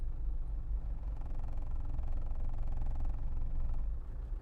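A Land Rover Defender D110 engine lugs in low gear at crawling, stop-and-go traffic speed, a deep steady rumble with a slight labouring throb, heard close from inside with no talking.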